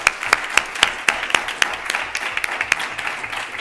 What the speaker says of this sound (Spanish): un aplauso para las personas